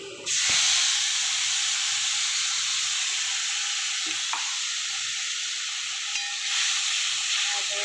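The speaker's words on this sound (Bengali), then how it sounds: "এবার পেস্ট করাটা, টমেটো পেস্ট, কাঁচা লঙ্কা পেস্ট, রসুন পেস্ট দিয়ে দিলাম।" Tomato, green chili and garlic paste hits hot oil with a loud, steady sizzle and hiss that carries on throughout, with a brief stirring clatter partway in and no voices.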